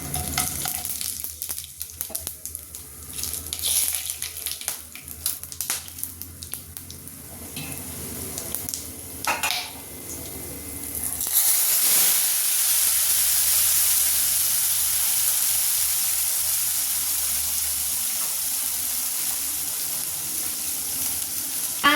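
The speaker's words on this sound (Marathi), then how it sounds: "दोन कांदा आणि दोन टोमॅटो आणि थोडीशी कोथिंबीरची पेस्ट केली आहे तर तेच आता तेलात फ्राय करून घेते" Onion, tomato and coriander paste sizzles and fries in hot oil, a steady close hiss with scraping stirs early on, then a louder continuous sizzle for the rest.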